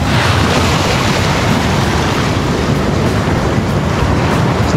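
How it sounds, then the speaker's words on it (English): Ocean waves on Tulum beach in Mexico make a loud, steady wash of surf with wind buffeting the microphone, a constant broadband roar with no clear breaks. "We haven't seen it this wavy on any other beaches"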